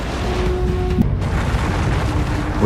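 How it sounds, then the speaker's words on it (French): A deep, rumbling boom for a cosmic explosion rolls through the whole stretch, loud and sustained, with a brief swell near the middle and a low, heavy roar beneath. "Elles donnent lieu à des explosions spectaculaires."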